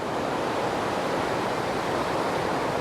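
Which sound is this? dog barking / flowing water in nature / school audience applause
flowing water in nature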